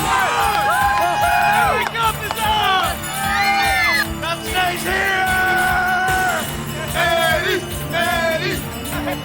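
A frenzied home crowd of Dallas Stars fans at an NHL playoff game in Dallas roars and cheers loudly and continuously, with shouts and whoops rising over the din while excited voices talk over it throughout.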